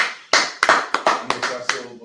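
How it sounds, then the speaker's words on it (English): A short burst of applause from a small group at the end of a class, with several sharp claps in an uneven rhythm, fairly close. "Clap it up."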